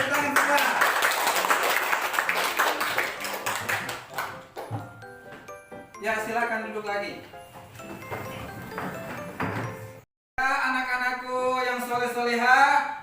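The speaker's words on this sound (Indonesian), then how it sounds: "Oke, tepuk tangan semua." A classroom of students claps hands in bursts, with a teacher's voice and tonal, sing-song sounds mixed between and after the clapping, ending with a bright rhythmic chanting or melodic passage.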